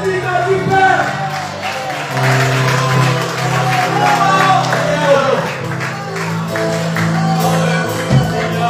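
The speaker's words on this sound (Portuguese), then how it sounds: "Aplauda Jesus e fica de pé" A church congregation applauds, a steady wash of clapping under loud, continuous voices and a sustained tonal hum, with the crowd noise holding level throughout.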